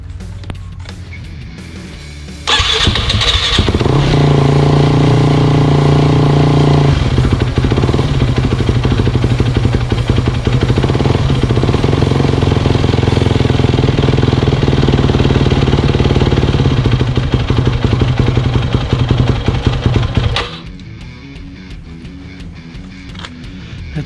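A Yamaha WR250 motorcycle engine with a rough idle fires up after a quiet start and runs loudly and steadily at close range with a knocking, uneven beat for about eighteen seconds, then cuts off into quiet.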